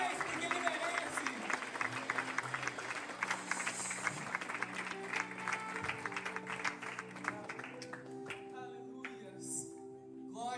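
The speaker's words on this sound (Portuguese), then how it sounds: "Vamos aplaudir mais forte, porque Ele merece o nosso melhor." Church audience applauding during a Christmas cantata, a dense sustained wash of clapping and crowd noise over music, with voices audible throughout.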